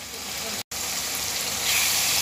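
Soaked, washed masoor lentils tipped into a hot frying pan with fried spices, giving a steady sizzle that briefly cuts out and then grows slightly louder.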